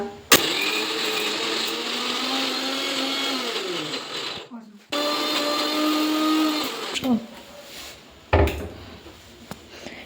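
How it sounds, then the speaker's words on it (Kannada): A mixer grinder blending masala dosa chutney whirs loudly for several seconds, stops briefly, then runs again, its motor pitch shifting as the contents blend, with clatter at the pauses. "ಇವಾಗ ಮಿಕ್ಸಿ ಮಾಡ್ಕೋತಾ ಇದ್ದಾಳೆ"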